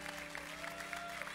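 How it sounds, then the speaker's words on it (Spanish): Congregation applauding the priest in a church service, a quiet, steady patter of clapping over a low sustained hum, heard from a distance. "Un aplauso al Padre."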